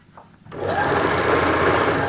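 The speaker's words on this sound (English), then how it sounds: "Now if you're sure that you've got everything all nice and flat, start sewing." A sewing machine stitches the neck band of nursing scrubs, starting after a brief quiet moment and running as a steady, close, continuous whirring hum until the end.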